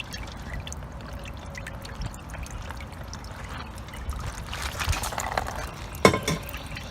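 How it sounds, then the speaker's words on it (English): Tie dye liquid is poured onto fabric in a soft, close trickle and dribble that swells near the end, followed by a sharp knock. "I think I'm just gonna pour the rest on the top of it and just call it a day."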